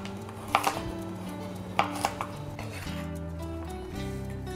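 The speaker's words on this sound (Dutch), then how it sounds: "En dan gaan we ze in reepjes snijden." Knife cutting vegetables into strips on a board in a restaurant kitchen, a few sharp taps in small bursts over a steady background hum.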